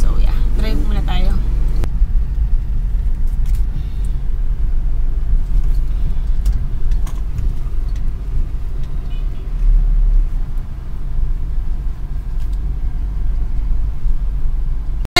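A car drives along with a steady low engine and road rumble throughout, close and continuous, while a person speaks briefly at the start.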